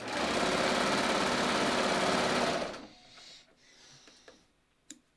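A serger sewing machine chains off fabric at a shoulder seam, running as a loud, fast, even rattling hum that stops abruptly partway through, followed by quiet handling noises and a couple of small clicks.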